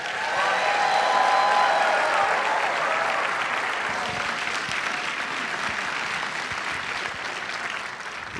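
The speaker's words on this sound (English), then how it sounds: "You got a bigger applause than I did." A large audience claps warmly for state senator Leroy Comrie at the 2015 State of the Borough Address: dense, steady applause that swells early, holds for several seconds, then slowly eases off.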